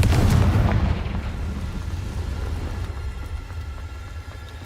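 A Confringo explosion spell from Hogwarts Legacy goes off with a heavy, booming blast at the start, then rolls into a long, fading low rumble.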